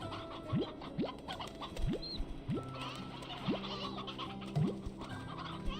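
Roosters in the video game Slime Rancher 2 cluck and squawk repeatedly, with short rising calls recurring about once a second over a busy background of game sounds.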